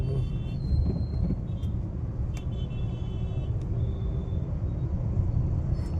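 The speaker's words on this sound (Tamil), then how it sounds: "Full traffic." Heavy road traffic on a congested street in Pondicherry, a continuous low rumble of cars, buses and motorbikes with occasional air-brake hisses and horn tones, steady and close throughout.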